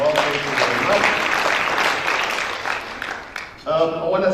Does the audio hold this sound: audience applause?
yes